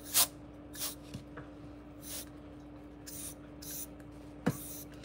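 Short breathy puffs of air blown across alcohol ink on a Dollar Tree wood plank, several separate bursts spaced through a quiet room with a steady low hum.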